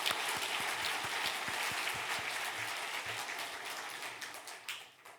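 Church congregation at a Christmas Day service applauding the choir, conductor and accompanists, full room-wide clapping that starts loud and thins out toward the end.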